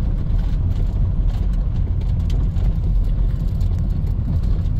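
Steady low road rumble of a 1990 Dodge Grand Caravan LE van driving down the road, engine and tire noise blending into a continuous, fairly loud drone with no talking.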